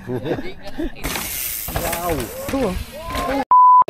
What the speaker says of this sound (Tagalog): Puro beep na tong video ko,